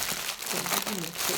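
Thick cardboard box and its packaging crinkle and rustle up close as a parcel holding a personalised item is opened, with someone speaking over the handling noise.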